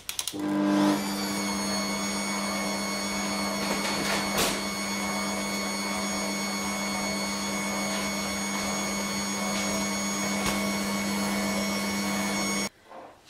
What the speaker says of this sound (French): Et je vais aller au batteur électrique